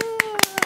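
A handful of quick, sharp hand claps, loud and close, scattered over a steady sustained tone with faint voice-like sounds in between.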